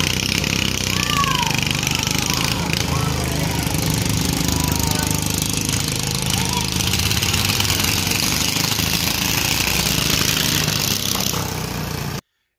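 A hydro dragster engine runs with a loud, rough, continuous roar at a distance across the water, steady and sustained for the whole stretch with no clear pauses.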